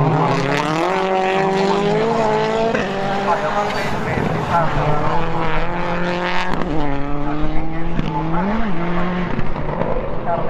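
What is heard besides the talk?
rallycross cars racing at the Härmä finals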